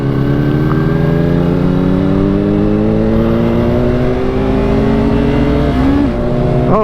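A motorcycle engine revs and drones loudly up close, its pitch climbing steadily and then dropping, on a new bike during a night ride, with no talk over it.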